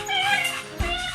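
A six-month-old female chocolate Labrador puppy at a pet market lets out a close, high whimpering whine, a single wavering cry ending in a short yip.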